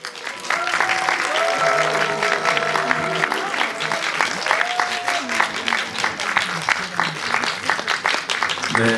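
Big, loud applause and cheering from a theatre audience as actors walk on for a film premiere stage greeting, sustained clapping with voices and shouts rising through it for the whole stretch.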